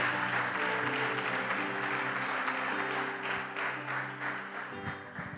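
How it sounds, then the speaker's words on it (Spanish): A church congregation claps in steady, dense applause that fills the room, then gradually tapers off near the end, with a sustained musical tone underneath. "Denle un aplauso al Señor."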